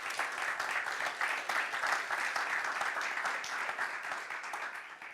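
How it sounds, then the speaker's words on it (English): Audience applause for a competition's finalists fills the hall, dense and steady throughout, with no talking over it. "could you give them all your recognition by applause for their contributions?"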